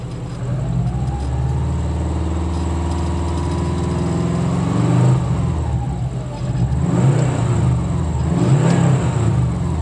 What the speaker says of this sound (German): Dreh ruhig mal hoch, den Motor.